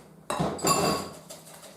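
Carrot cake batter with egg mixed in is beaten in a bowl, with a sudden clattering scrape of utensil against the bowl followed by a second rough stroke, close and without speech.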